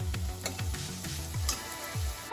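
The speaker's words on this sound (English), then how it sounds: "Now add the onions. Cook it till it's nice and gold." Onions frying in a pan for pav bhaji, a steady close sizzle with soft stirring scrapes recurring throughout.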